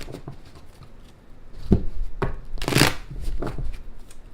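Tarot cards riffled and shuffled in a few quick bursts, close by, with soft slaps and rustles between them.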